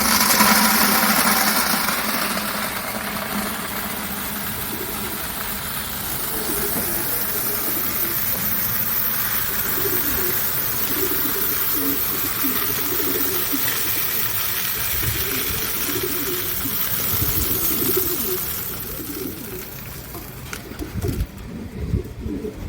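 Pigeons cooing outdoors near water, a continuous rolling murmur of soft coos over broad background noise, with a low engine-like rumble and the sound thinning out near the end.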